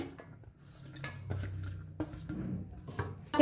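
Utensil scraping and clinking in a pan while an onion, tomato, capsicum and paneer filling is stirred together, with soft irregular knocks and a louder clank at the end, no talk.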